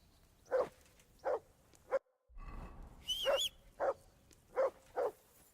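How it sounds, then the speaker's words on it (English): A dog barks in Kingdom Come: Deliverance II, six or seven sharp, evenly spaced barks that stand out loud against quiet background, with a brief high whistle-like game sound partway through. "Call off that mutt of yours!"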